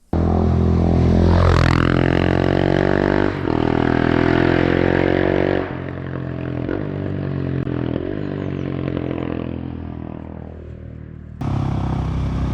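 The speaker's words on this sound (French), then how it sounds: "soyez les bienvenus au guidon de cette Husqvarna 701 Supermotard" A Husqvarna 701 Supermoto single-cylinder engine revs hard near the start, climbing steeply, then holds a loud, steady drone. It drops to a lower, rougher idle before surging loud again at the end, with no voices.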